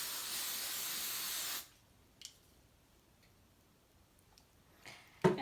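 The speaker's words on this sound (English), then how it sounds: "And I'm gonna just put some hairspray." Hairspray sprayed onto hair during a quick weave styling: one steady hissing burst of about a second and a half, followed by quiet with a few small clicks and handling sounds.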